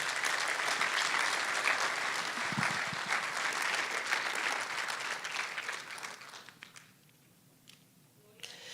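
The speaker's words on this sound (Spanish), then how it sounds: "Bríndale un fuerte aplauso al Señor por eso." A church congregation applauds during a sermon: dense, continuous clapping fills the room at a steady level, then thins and fades to a near stop over the last couple of seconds.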